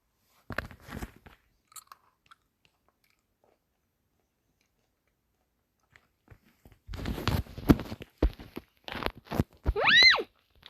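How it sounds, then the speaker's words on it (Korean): Someone eating fresh blueberries: soft, close chewing and crunching in a few short bursts after a long quiet stretch, ending with a brief hummed vocal sound. "아무튼 여러분들 저 블루베리 좀 먹을게요."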